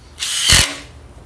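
A Ryobi impact driver drives a screw in one short, loud, whirring burst that rises and then stops within about half a second.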